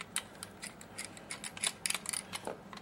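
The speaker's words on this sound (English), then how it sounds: "we're going to unscrew the 3 screws" Small chassis screws on an SCX slot car being unscrewed with a screwdriver, a quiet run of faint scratchy, clicking turns close by, with no talking.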